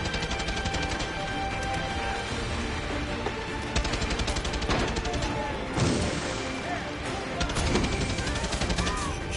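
Rapid bursts of gunfire in the Far Cry 6 video game, with repeated shots and a couple of heavier impacts over steady game sound, speech faintly present at times.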